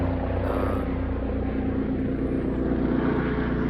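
Loud, steady engine roar of a propeller airplane, close and continuous, with a low droning hum throughout.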